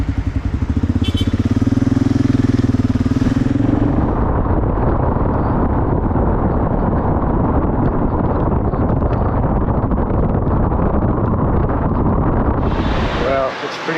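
A motorcycle ridden through cold, wet weather: a low engine drone at the start, then steady roaring wind buffeting the microphone for most of the ride, close and loud throughout.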